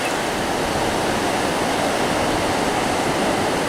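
Sea surf at Vääna during kayak surfing rushes in a steady, dense wash of breaking waves, loud and close, with no pauses and no talk.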